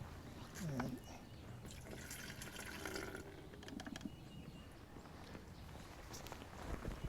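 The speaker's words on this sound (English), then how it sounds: "Then I will pour that into my spray tank." Liquid slurry pours and splashes into a spray tank for orchard fungal spraying with a steady watery gurgle, faint and close, alongside some handling clatter.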